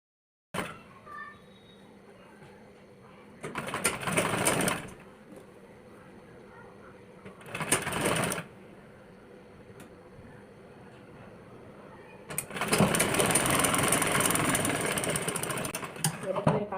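A sewing machine stitches blouse pieces together in three loud runs, a short burst, a brief one and a longer final stretch, separated by quieter pauses with faint background hum.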